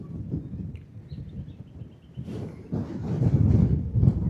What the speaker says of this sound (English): Good, windy today.